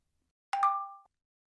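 A single bright phone notification ding, a clean two-tone chime that rings briefly and stops, alone against silence.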